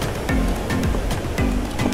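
Ocean surf during a US Open of Surfing heat, white water churning and breaking in repeated rushes, a continuous loud wash with rhythmic swells close to the microphone.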